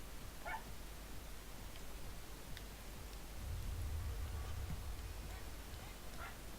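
A puppy barks outside a window, heard indoors as a few faint, distant, scattered barks over a quiet room hum.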